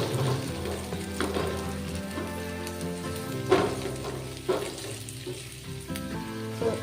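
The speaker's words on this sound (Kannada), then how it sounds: "ಯಾವುದೇ ಪಾತ್ರೆ ಆದರೂ ಈ ರೆಸಿಪಿಗೆ ಆಲೂಗಡ್ಡೆ ಚೆನ್ನಾಗಿ ಫ್ರೈ ಆಗಬೇಕು" Potatoes fry in a pan over low flame with a continuous crackling sizzle, punctuated by occasional louder scrapes and knocks as they are stirred.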